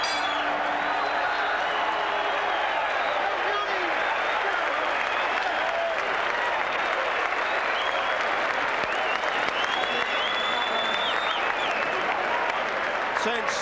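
Boxing crowd at the Mirage in Las Vegas applauding and cheering after a bout, a dense, steady roar of clapping and voices that fills the hall without a break for the whole stretch.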